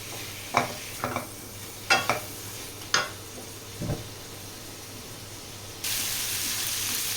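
Sweet potato pieces frying and being stirred in a pan for a Bengali-style dish, giving a few scattered scraping clinks of the spoon over a low steady sizzle, then a broader hiss that rises near the end.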